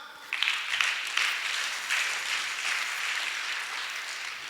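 An audience at a church gathering bursts into applause, a steady wash of clapping that swells after a short quiet start and carries on evenly to the end.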